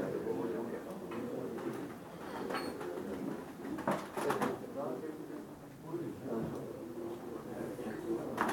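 Pigeons coo softly in low, throaty murmurs at a pigeon auction, against a busy background of rustling and movement, with people talking faintly nearby.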